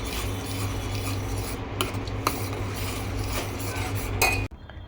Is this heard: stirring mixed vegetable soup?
yes